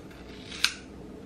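Ordinary household scissors, not hair shears, snip once through a hair fringe: a single short, crisp, close snip against quiet room background.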